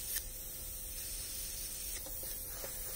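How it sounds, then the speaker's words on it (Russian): An airbrush sprays touch-up paint onto a Volkswagen Golf GTI panel, giving a steady, close, fairly quiet hiss that runs throughout with a few faint clicks and no talking. "подкрашу я с аэрографа, чтобы зерно более-менее хоть имело какой-то распыленный вид"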